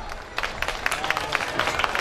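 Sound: audience applause

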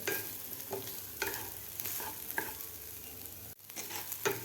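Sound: dry roasting broken wheat (dalia) while stirring in pan

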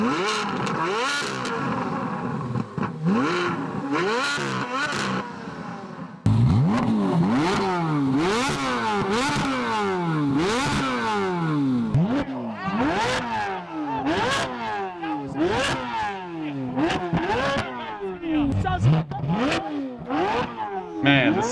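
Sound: Corvette C8 Z06 V8 engine revving

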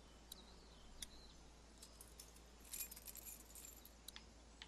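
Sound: picking up keys from a cop in The Walking Dead game

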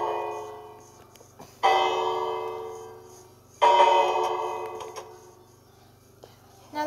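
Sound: villager bell ringing in a video game village

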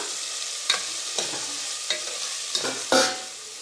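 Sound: stirring ginger-garlic paste masala in a pan

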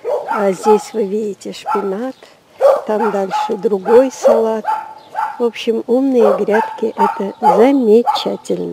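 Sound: dogs barking

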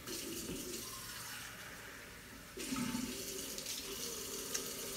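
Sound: hot water poured into clay pot

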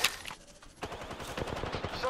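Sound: gunfire shots in a video game

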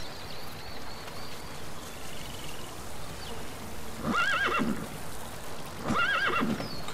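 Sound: horse neighing in video game Metal Gear Solid 5

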